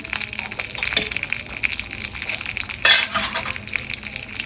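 Dry red chillies drop into hot oil with urad dal and sesame seeds for a dal tempering, making a continuous close sizzle with a sharp burst of crackling partway through and no talk.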